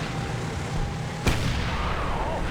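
A single sharp tank cannon shot in a video game, a sudden loud blast midway through over a steady low rumble of engine noise.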